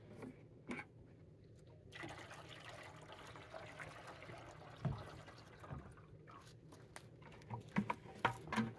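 Water is poured and sloshed in a gold pan while Coker Creek paydirt is worked, giving a soft continuous trickle and patter with a few small splashes, quiet and close.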